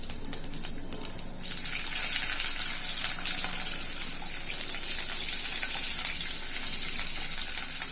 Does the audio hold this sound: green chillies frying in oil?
yes